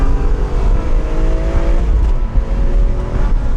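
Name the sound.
BMW E46 M3 naturally aspirated engine revving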